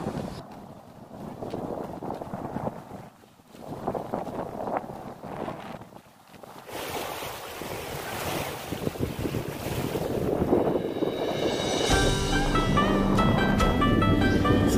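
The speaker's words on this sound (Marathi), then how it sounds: "इतक्या लाटा येत आहेत आणि हवा आहे जोरात." Strong wind roars across the microphone while waves slap and wash at the Pimpalgaon Joga dam reservoir near Malshej Ghat, a steady gusty rush that swells louder toward the end.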